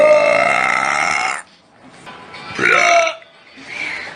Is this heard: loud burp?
yes